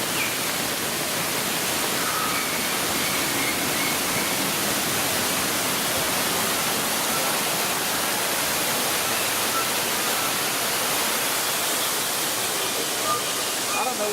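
Waterfall along the Living with the Land boat ride at Epcot, Walt Disney World, a constant broadband rushing roar of falling water, loud and unchanging for the whole stretch, with no other sounds breaking through.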